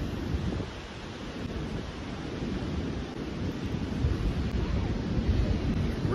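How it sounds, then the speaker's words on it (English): Waves and wind roar steadily at Tomahawk Beach in New Zealand, a continuous broad wash of surf mixed with gusty wind buffeting the microphone, with no talking. "today we're on the Tomahawk beach, right in front of the beach"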